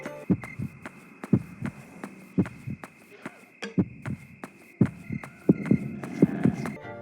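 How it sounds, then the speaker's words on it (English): Heartbeat warning sound from the horror game Yomawari: Night Alone, signalling nearby enemies: paired, muffled thumps repeat steadily and quicken toward the end over a constant low hum, with no speech. "with the sound of our character's heartbeat"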